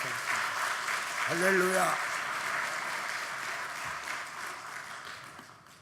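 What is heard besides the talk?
applause welcoming the pastor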